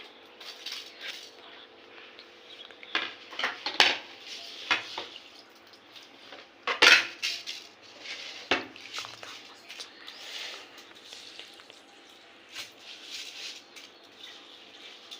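Soaked rice for basanti polao is scooped from a bowl onto a plate, giving wet squishy scrapes and occasional sharp utensil clinks over a soft, steady kitchen background, with no talking.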